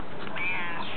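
An Egyptian cat in Egypt gives a single short, close meow, loud and clear with no talking over it.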